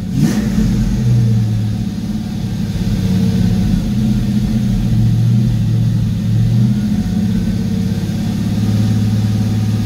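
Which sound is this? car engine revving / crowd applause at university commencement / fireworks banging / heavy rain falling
car engine revving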